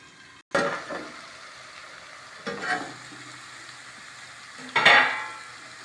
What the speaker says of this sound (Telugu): ఉల్లిపాయలు అల్లం వెల్లిపాయలు పేస్ట్ బాగా వేగినాక